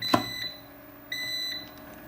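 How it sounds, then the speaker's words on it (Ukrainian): A LogicPower SmartUPS 3000 Pro gives two low-voltage warning beeps, high and steady, about a second apart, the second held longer, with faint hum underneath. "Все одно пищить."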